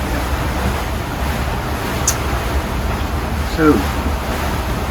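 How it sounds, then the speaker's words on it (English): Wind rushes steadily across a sailboat at sea while motor sailing at around 10 knots, a constant loud broadband roar with water wash underneath and a brief spoken word at the start. "The wind is getting back up again"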